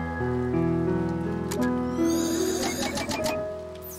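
Rain in the video game To the Moon makes a soft, continuous patter under gentle melodic game music. It thickens slightly midway and has no voices over it.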